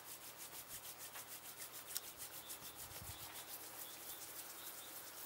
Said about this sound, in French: on va commencer tout simplement en se frottant les mains.